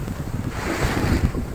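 Sea waves wash steadily at the shore, a continuous rough rush of surf mixed with heavy wind buffeting the microphone, loud and close throughout.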